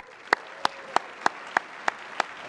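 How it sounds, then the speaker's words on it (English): At a business conference session, a single person claps slowly and evenly, about seven sharp claps at a steady beat with a faint room hum beneath, rather than a full audience round. "Let's give him a big round of applause."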